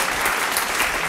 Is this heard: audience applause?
yes